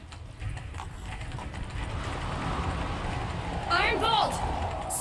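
Galloping horse hooves from The Witcher 3 pound in a fast, continuous rhythm under steady game ambience, building slightly louder toward the end, with a short bright chirping sound partway through.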